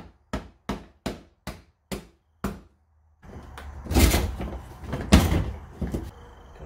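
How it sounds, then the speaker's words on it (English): Sharp metallic knocks strike a Saab 9-3 fuel pump tank lock ring, six evenly spaced close blows, followed by louder scraping and clattering work noise with a few heavier thumps. "we'll go ahead and knock this ring loose"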